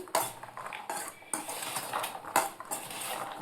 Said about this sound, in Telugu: నిమ్మరసం పిండిన తర్వాత కలబెట్టేసుకొని